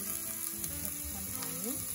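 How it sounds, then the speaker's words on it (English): Garlic browns in a frying pan, a faint, steady sizzle with light crackles and a low, noisy background hum. "First thing that we're going to do is to brown the garlic"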